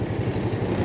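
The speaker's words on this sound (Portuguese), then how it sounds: "isso aí foi o barulho que o motor, pelo menos o motor da minha moto tá fazendo" A motorcycle engine with a strange noise running steadily, a close, continuous low rumble with an even, slightly uneven pulsing beat and no voices.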